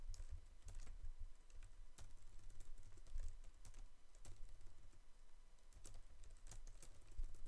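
Rapid typing on a computer keyboard while coding a game tutorial, close and continuous irregular key clacks with a few louder strokes over a low background hum, no talk.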